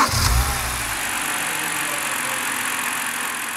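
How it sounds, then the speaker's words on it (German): BMW 5 Series E61 engine running rough with an ignition coil fault, a low idling rumble with a louder burst at the start that then settles into a steady, uneven hum. "man spürt auch, dass der Motor nicht ganz sauber läuft"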